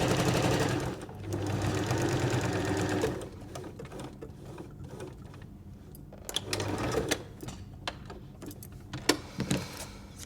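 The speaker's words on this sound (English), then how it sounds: "And then stitch up that final side." A sewing machine runs a steady, close whirring stitch along the final side of a fabric cutlery pouch, then stops, followed by small handling clicks and taps.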